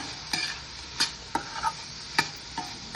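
Spices stirred in a hot pan with turmeric and chili powder, a quiet sizzle underneath sharp scraping clicks of the spoon at irregular intervals, fairly close, no talking.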